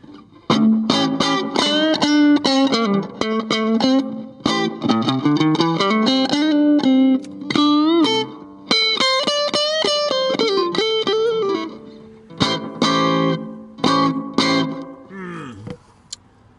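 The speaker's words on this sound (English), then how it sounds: "Here's with echo." An electric guitar runs through a Danelectro FAB Echo pedal with the echo on, playing a string of loud plucked notes and short phrases whose repeats trail after each one, with brief pauses between bursts.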